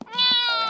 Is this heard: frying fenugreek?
no